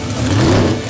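A high-revving racing engine of about 1450 to 1500 horsepower, close to 11,000 RPM, giving a loud, near, sustained roaring whine that swells briefly in a single short burst.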